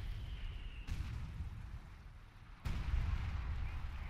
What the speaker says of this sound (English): He jumps into the house just as the artillery starts to fall down.